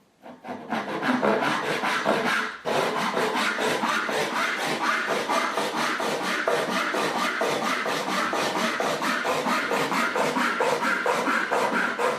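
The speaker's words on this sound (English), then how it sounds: "sawing straight to the line and sawing it so quickly" A hand saw rasps steadily through wood in fast, even back-and-forth strokes, close and loud, continuing without pause after a brief start.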